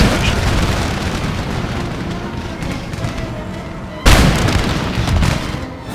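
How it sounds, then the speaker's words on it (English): Heavy booming cannon blasts in the strategy game Empire: Total War rumble continuously, with one sharp, louder shot partway through and a dense roar of battle around it. "Let's have all the cannons firing."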